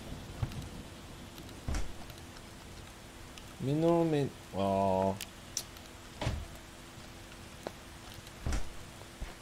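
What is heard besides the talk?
heavy rain downpour in the video game Starbound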